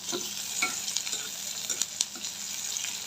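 Onions frying in a pan for noodles, a soft continuous sizzle with light scraping stirs and a few sharp clicks, fairly quiet and close.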